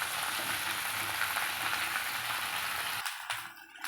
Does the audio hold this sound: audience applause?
no